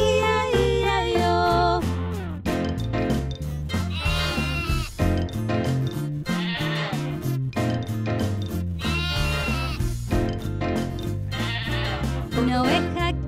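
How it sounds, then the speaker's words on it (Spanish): Sheep bleating within a Spanish-language children's farm song, the animal calls mixed into continuous music with singing voices throughout. "Y en su granja tenía una oveja"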